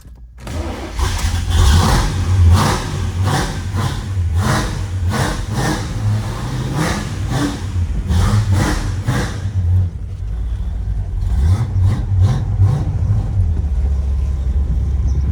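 A 1970 Pontiac GTO Judge's 400 V8 starts and revs, then keeps running as the car pulls away, loud and close with pulsing acceleration throughout.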